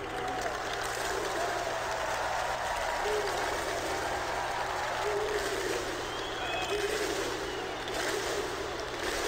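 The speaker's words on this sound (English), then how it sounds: "they deserve an applause for it, absolutely" Steady applause from the home crowd at a Counter-Strike major semi-final in Krakow, a dense continuous roar of clapping filling the arena, with a commentator talking over it.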